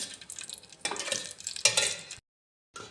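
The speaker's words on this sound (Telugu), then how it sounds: "ఉల్లిపాయలు వేసుకుంటున్నాను ఆకుకూరలో కొద్దిగా ఆయిల్ వేసుకుంటేనే బాగుంటుంది" Onions frying in oil in a pan while cooking ponnaganti greens, a broadband sizzle with stirring scrapes that swells in bursts, then cuts to silence before resuming briefly.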